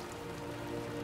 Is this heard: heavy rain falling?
yes